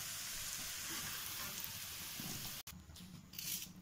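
Fried potatoes are lifted out of hot oil, with an even sizzle and faint scraping, a short clack near the end and then quieter bubbling, no talk.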